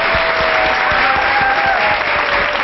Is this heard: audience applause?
yes